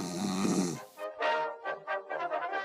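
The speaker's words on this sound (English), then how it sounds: "He is healthy and happy and still snores like when he was a baby." A healthy dog snores, one long loud rasping snore at the start followed by a quieter run of short snuffling breaths, close by with no talk.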